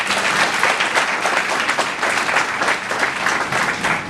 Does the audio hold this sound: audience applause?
yes